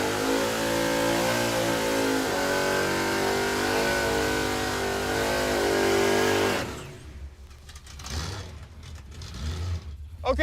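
A Chevrolet Impala drag car roars at high revs with a loud, steady engine note during its launch, then the sound drops away as it recedes down the track, leaving wind noise and faint voices.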